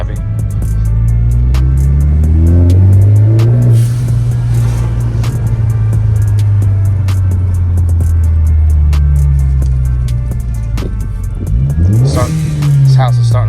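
Ford Focus ST with a loud aftermarket intake revving hard, a deep booming engine note that rises, holds and drops back before another sharp climb, very loud and close, with voices over it.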